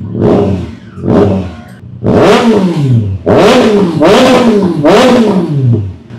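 A 2025 Triumph Trident 660 motorcycle with a new aftermarket exhaust revs hard and close, in six loud throttle blips, each rising sharply and falling away, with short gaps between them.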